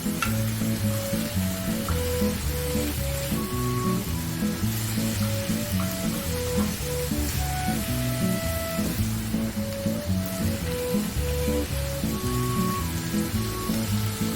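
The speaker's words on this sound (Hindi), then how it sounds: "फिर वेजिटेबल फ्राई हो रही है" Vegetables with soy sauce stir-fry in a pan on high flame, a dense continuous sizzle with rhythmic stirring clatter running steadily from start to finish, close and fairly loud, with no talking.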